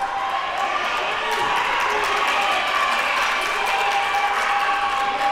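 A basketball crowd at a Queensborough vs. Kingsborough community college women's game cheers and applauds in a steady, dense roar, with occasional whoops and squeaks rising above the continuous clapping.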